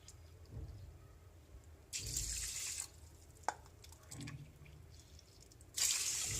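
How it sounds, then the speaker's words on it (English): Water is poured into a Prestige 1.8 L rice cooker in short, quiet bursts of splashing and trickling close by, with soft clinks between pours. "Now according to that I am adding water."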